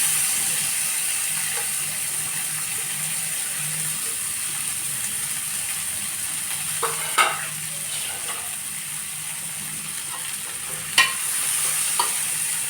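Fish frying in hot oil with ginger-garlic paste while being stirred, a steady low sizzle throughout with a few brief scraping knocks of the utensil against the pan.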